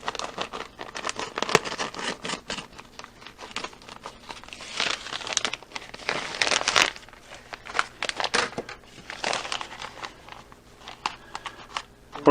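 Scissors snip and crinkle through a plastic vacuum sealer bag for a Food Saver sealer, giving close, irregular bursts of crackling and rustling with brief pauses between cuts, no voices.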